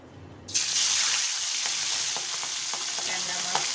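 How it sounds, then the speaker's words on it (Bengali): Tengra fish dropped into hot oil in a pan bursts into a loud, steady sizzle that continues with small crackles and pops, close by and without talk. "এখন আমরা মাছটা ভাজি করব।"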